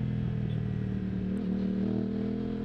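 An Aprilia RS 660 Extrema motorcycle engine runs steadily close by, a continuous mid-pitched engine drone holding level with slight rises, as if idling or lightly revved.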